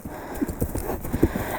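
Horse hooves clip-clop on the ground during a groundwork exercise, a steady run of close, moderately loud footfalls with no talking.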